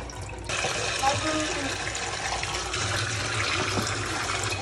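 Fresh water runs from a tap to refill a pet fish's tank. It starts abruptly and continues as a steady, close, rushing splash.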